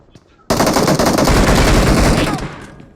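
A loud, sustained burst of rapid gunfire, close and harsh, rattles for about two seconds in a video game, then cuts off, with faint voices just before it.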